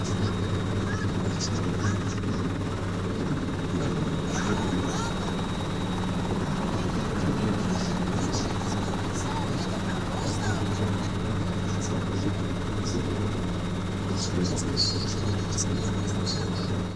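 A helicopter's loud, steady rotor thump and engine roar continue without a break, close by and filling the whole stretch.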